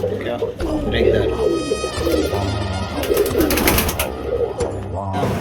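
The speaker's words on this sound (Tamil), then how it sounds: "நம்ம பாய் கிட்ட இருக்கிறது எல்லாமே கரணை புறாங்க." Karanai breed pigeons coo in a steady, overlapping chorus at moderate volume, mixed with other bird calls throughout.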